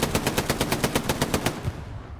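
Sustained machine-gun fire from an MG in Hell Let Loose, a World War II shooter: a loud, close, steady burst of rapid evenly spaced shots lasting about a second and a half, then trailing off into echo.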